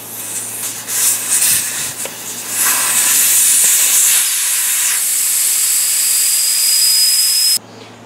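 Pressurized air rushes out of a car tire through the open valve stem once the valve core is unscrewed, a loud, steady broadband hiss running nearly eight seconds before cutting off abruptly.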